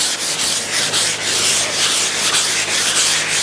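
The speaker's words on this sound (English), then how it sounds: "do a light sanding with the sponge" Steady rhythmic rubbing of a sponge lightly sanding an oiled Eames lounge chair, close up, with regular back-and-forth strokes throughout.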